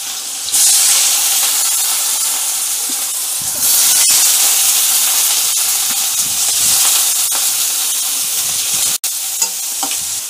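Chopped onion frying in oil alongside crushed garlic in a pan for a Maharashtrian dry chavli bean pod vegetable, giving a steady close sizzle with brief stirring scrapes and a sharp clink near the end, no voices.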